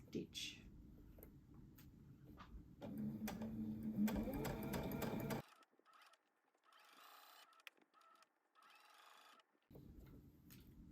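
A sewing machine stitches in the ditch on a New Look 6575 garment in short, quiet whirring bursts separated by pauses and small clicks, with someone speaking softly in between.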